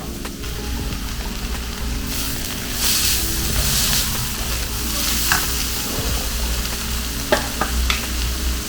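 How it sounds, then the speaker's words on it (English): Onion and chili dulce hit hot oil for Costa Rican arroz con pollo, giving a loud continuous sizzle with bursts of hissing and scraping stir strokes near the end. "So I'm just gonna put like a tablespoon of oil to start with, just to fry things up nicely."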